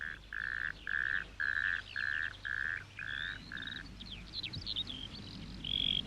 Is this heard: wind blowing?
no